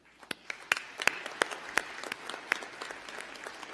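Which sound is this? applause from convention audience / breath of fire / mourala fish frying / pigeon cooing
applause from convention audience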